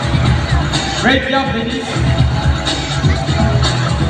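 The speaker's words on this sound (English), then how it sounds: "How about a round of applause for Sea Lion friends?" Audience applause and cheering at a sea lion show at Manila Ocean Park, a steady crowd roar with whoops, continuing under a presenter's voice speaking over it throughout.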